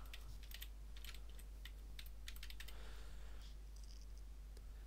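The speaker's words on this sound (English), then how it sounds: "in this box I'm going to type in the name" Fingers type on a computer keyboard in quick irregular bursts of close, crisp key clicks over a low steady electrical hum, with a brief pause near the end.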